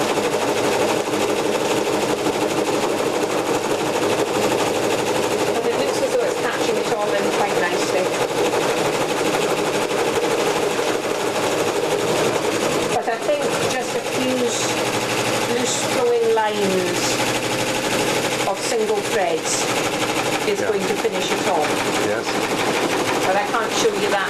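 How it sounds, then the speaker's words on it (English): A sewing machine stitches metallic thread in steady rapid bursts, its mechanical rattle running continuously with brief pauses, close by. "this sewing machine doesn't like metallic thread"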